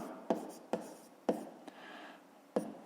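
A pen scratches across paper in short separate strokes, about five quick marks spaced unevenly, close and quiet in a still room.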